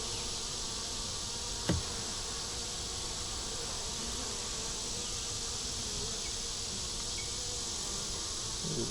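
A dense, steady buzz of many honeybees at a crowded open hive fills the whole stretch, continuous and close, with one brief soft tap partway through.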